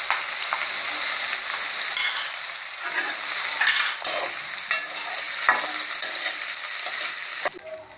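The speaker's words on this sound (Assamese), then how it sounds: "মাছখিনি ভাজা হৈ গৈছে" Salted, turmeric-coated dry fish fries in hot oil in a wok, a loud, continuous sizzle broken by scraping stirs, close and without talk.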